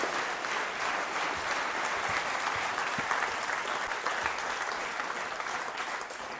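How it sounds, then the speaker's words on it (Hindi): An audience at a school quiz show applauds steadily, a dense, even clapping from many hands that carries on throughout and fades slightly at the end. "तालियां बजाइए"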